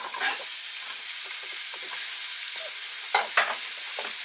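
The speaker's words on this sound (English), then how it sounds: "we want to stir and fry that for a minute or two" Finely chopped onion fries in a couple of tablespoons of hot vegetable oil, a steady close sizzle and hiss broken by soft scraping strokes of a stirring utensil, with no voices over it.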